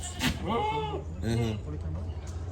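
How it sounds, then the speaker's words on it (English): Goats bleating at a Cayman Islands Department of Agriculture farm, some of them imported animals: wavering bleats in two main bursts, close and fairly loud, with someone talking over and between them. "we look at some of these goats here"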